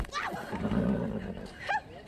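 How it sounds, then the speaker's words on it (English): A horse neighs in a TV sitcom scene, a shrill whinny rising over rumbling background noise with people talking around it. "Hey, look out for the horse."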